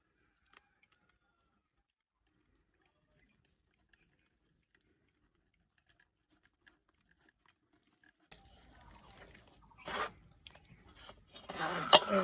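Blended tomato poured through a strainer, heard as near silence with a few faint ticks at first, then wet splashing and trickling that starts abruptly and builds in uneven bursts toward the end.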